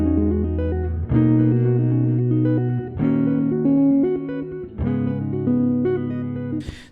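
A dense, heavy band passage of distorted chords with abrupt stops and shifting riffs, played loud in choppy, rhythmic sections.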